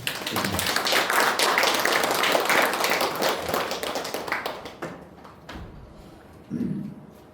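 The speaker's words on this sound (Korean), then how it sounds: "박수 한번 드립니다." A church audience applauds missionaries being introduced: dense, many-handed clapping holds for about four seconds, then thins and fades into scattered taps and a quieter room.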